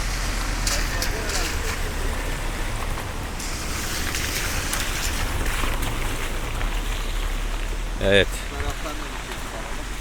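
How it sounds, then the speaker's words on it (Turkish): A continuous, loud rush of a strongly flowing village stream swollen by rain fills the scene, steady throughout, with a brief knock near the end. "Gür akıyor dere."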